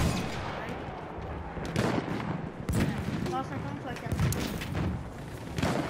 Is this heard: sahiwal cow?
no